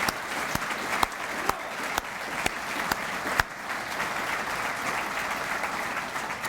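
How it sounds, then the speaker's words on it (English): An audience at an Army change of command ceremony applauds the activation of six new battalions, a steady patter of many hands with a few sharp, louder claps standing out, somewhat distant. "let's all just give a big round of applause to that."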